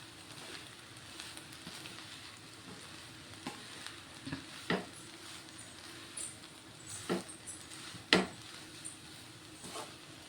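Egg noodles are stirred and tossed in a hot pan, sizzling steadily with scattered scrapes and clinks of the utensil against the pan, close and fairly quiet.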